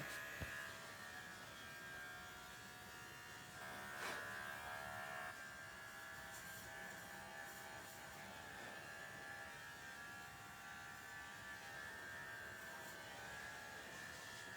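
Electric dog grooming clippers fitted with a 5-in-1 blade run in a steady, unbroken buzz for the whole stretch, fairly quiet and close, with a brief rattle of handling partway through.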